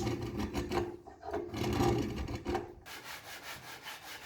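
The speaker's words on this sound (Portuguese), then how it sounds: "eu colei uma lixa de grão 60 na bancada com fita dupla face e lixei tanto a tampa como o corpo do baú" A wooden treasure chest lid rubbed back and forth by hand on 60-grit sandpaper fixed to a workbench, close and rhythmic, with irregular strokes at first and quicker, even scraping strokes toward the end.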